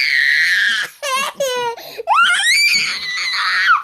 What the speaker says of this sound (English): They don't want to hear you screaming.